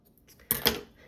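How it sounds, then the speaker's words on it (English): Paper being cut for a junk journal cover styled after Little Golden Books, heard as two quick, crisp snips close by against a quiet background. "I'm going to cut this off right here."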